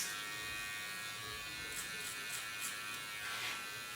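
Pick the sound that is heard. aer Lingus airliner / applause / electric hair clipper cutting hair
electric hair clipper cutting hair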